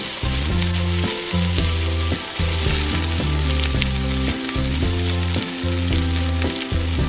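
A toy kitchen playset stove gives off a steady, loud sizzling effect that runs without a break, with a repeating tonal jingle pattern layered over it and no one talking.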